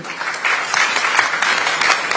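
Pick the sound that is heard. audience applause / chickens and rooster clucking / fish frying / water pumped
audience applause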